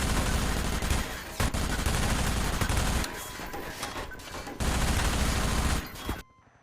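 Rapid SMG fire in Half-Life 2 on the original Xbox, where single-digit frame rates distort the weapon sounds; loud, dense bursts run almost without pause, briefly thin out, then resume before cutting off at the end.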